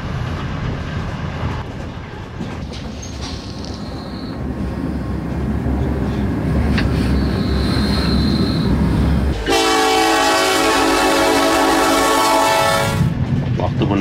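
A passenger train rumbles along through Ukraine with a steady low roar and rhythmic wheel clatter, joined midway by a long, loud horn blast before the rumble continues.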